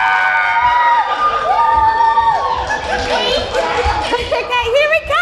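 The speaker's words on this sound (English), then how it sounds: "here he comes and he's riding past and we're cheering and we're excited" Children cheering and shouting excitedly as a crowd, with laughter and chatter mixed in, loud and continuous throughout, as a child playing Jesus rides past on a donkey in a Bible story re-enactment about Palm Sunday.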